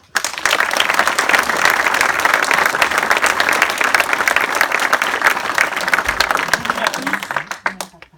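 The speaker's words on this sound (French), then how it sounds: "Merci d'applaudir José Thierry." An audience applauds at the public presentation of a municipal election list in June 2018. Dense, steady clapping fills the room for about seven seconds, then fades to a few last claps.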